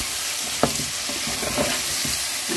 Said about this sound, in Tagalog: nilagay na natin ang ating kamatis at atin na munang hahaluin